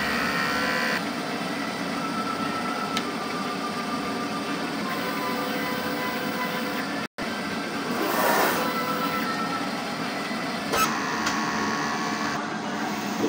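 An inkjet printer runs a print head cleaning cycle, a sustained whirring and grinding drone with mechanical shifts, one brief silent break, and a few clicks toward the end.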